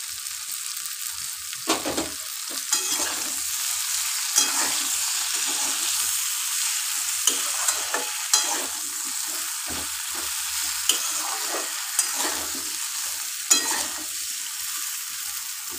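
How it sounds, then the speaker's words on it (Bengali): Sliced okra sizzles steadily in hot oil in a pan, with a constant bright frying hiss broken by scraping stirs and soft utensil knocks at irregular intervals, close by and without talk. "ঢ্যাঁড়সটা এইভাবে কেটে দেবে। এটাকে একটু ভেজে সাঁতলে তুলে দেব।"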